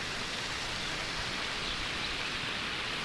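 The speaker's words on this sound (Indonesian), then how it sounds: "Curah hujannya ini sehari terusan hujan" Steady rain falling in a mountain area, a dense even hiss of continuous downpour with no breaks and no voices.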